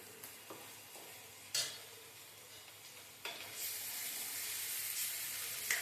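Masala frying in a pan for fish curry, a soft steady sizzle with a few sharp stirring scrapes, the frying swelling louder toward the end, close but fairly quiet, no voices.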